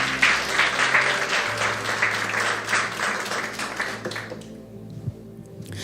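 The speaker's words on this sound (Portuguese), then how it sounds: "Você pode aplaudir o Senhor?" A church congregation applauds the Lord in a dense, steady burst of clapping that fades out after about four seconds, leaving a quieter tail with a few stray sounds.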